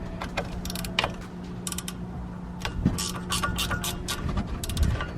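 A ratchet with a small 7mm socket backs a self-tapping screw out of a plastic part on a Ford Focus RS, giving quick runs of close, crisp clicking over a low background hum.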